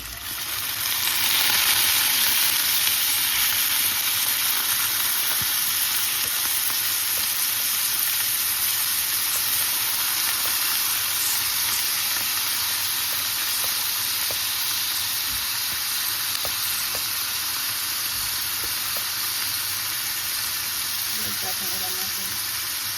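Squid for adobong pusit sizzles and fries in a pan, a loud, steady hiss that rises sharply at the start and holds close and constant, with faint stirring clinks toward the end.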